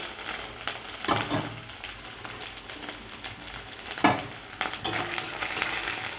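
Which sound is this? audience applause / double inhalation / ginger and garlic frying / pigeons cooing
ginger and garlic frying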